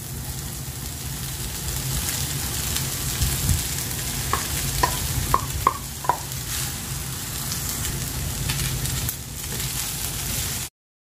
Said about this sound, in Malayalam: ഇനി നമുക്ക് ഇതിലേക്ക് എടുത്തു വെച്ചിട്ടുള്ള റൈസ് കൂടെ ചേർത്ത് നന്നായിട്ടൊന്ന് മിക്സ് ചെയ്തെടുക്കാം